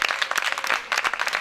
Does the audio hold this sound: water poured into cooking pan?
no